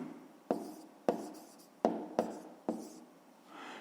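A pen writes by hand during a fifth-grade maths exercise, making five sharp, close strokes at uneven intervals, each fading quickly into quiet, with no voices.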